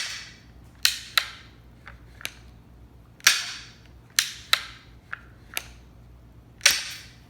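A Henry lever action rubber band rifle snaps sharply with each shot and clacks as the lever is worked, about ten crisp isolated clicks and pops spaced irregularly over several seconds, close and clear with no talk.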